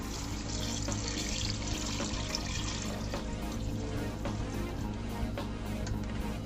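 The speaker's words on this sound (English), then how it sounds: "Add cold water to this." Cold water pours steadily into a pot holding cooked lobster bodies for stock, a continuous close splashing rush that keeps going without a break.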